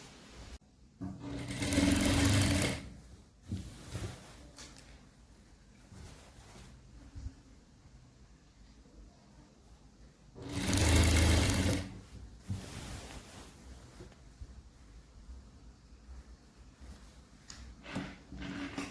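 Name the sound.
sewing machine stitching a silk skirt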